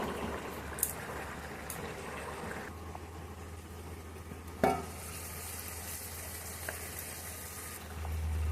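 Fish head simmering gently in a bottle gourd curry in a pan, a steady low bubbling and soft sizzle with an occasional sharp clink of a utensil, heard alone without talk.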